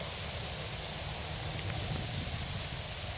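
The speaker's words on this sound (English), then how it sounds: "It started raining and pouring." Heavy rain pours steadily outdoors in Florida, a dense, even hiss with no breaks, loud and close throughout.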